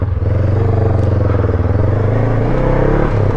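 A Honda NX500 motorcycle with an aftermarket black ceramic exhaust idles with a loud, deep, throaty rumble, the steady burbling exhaust pulsing close by with no one talking.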